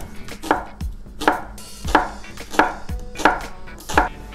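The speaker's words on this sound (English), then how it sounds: "you start chopping finely the onion" A knife finely chops an onion on a cutting board, with about seven sharp, evenly paced thuds and crunches and no talking.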